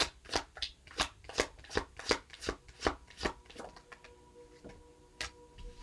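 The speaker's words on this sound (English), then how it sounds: "I'm going to pull one more card." Tarot cards shuffled by hand in quick crisp riffles, a rapid run of close flutters that slows and thins toward the end as a card is drawn.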